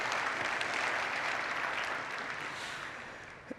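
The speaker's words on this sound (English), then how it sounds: "Everybody, round of applause, please." Applause from a keynote audience at AWS Summit Washington, DC 2021: a steady wash of clapping, heard fairly quietly, tapering off over a few seconds.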